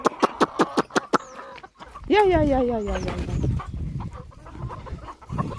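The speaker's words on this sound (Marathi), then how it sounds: "कोंबड्यांना धान्य टाकले" Farm chickens cluck and call while being fed wheat grain; a voice calls them with rapid repeated syllables, then several nearby bird calls rise over scattered pecking and rustling.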